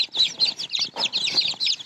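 High, rapid peeping from several small chicks chirping continuously and close, the calls overlapping in quick bursts.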